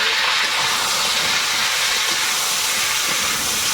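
Potatoes frying in oil in a wok with green chillies and chopped onion, a dense continuous hiss and sizzle heard up close at fairly loud level, with no voices.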